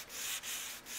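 Folded sandpaper rubs by hand along a budget bow limb, giving a close, raspy sanding sound in three even strokes with brief gaps between them.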